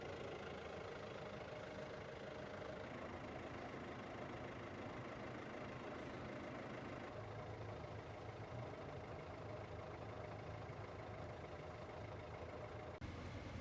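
A sailboat's engine runs steadily throughout while motoring away from a mooring at Hope Islands, a continuous mid-pitched drone with a faint knocking texture and no voices.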